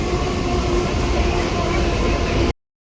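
A train rolls through a railway station in Mumbai, a steady loud rumble of wheels and carriages that runs unbroken for a couple of seconds before cutting off abruptly.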